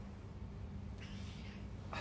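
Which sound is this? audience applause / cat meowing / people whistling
cat meowing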